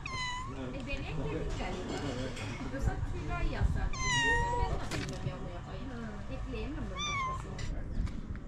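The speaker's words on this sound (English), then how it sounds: "Castle cat." Cat meowing inside a castle in North Cyprus, several drawn-out rising and falling meows over a few seconds, close and clear, with people talking and background noise throughout.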